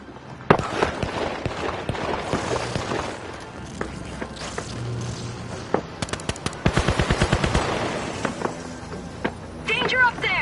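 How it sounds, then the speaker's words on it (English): Rapid bursts of gunfire and explosive blasts from RPG rocket fire in the video game The Finals, with a fast run of sharp shots near the middle and a louder boom near the end, and voices talking over the action. "Danger up there! RPG fire!"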